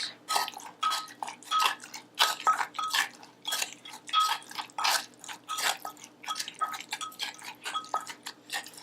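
A utensil stirs and clinks repeatedly against a bowl of Cambodian fish dip sauce with lime and water, with soft wet squelches in a steady, uneven rhythm, close by.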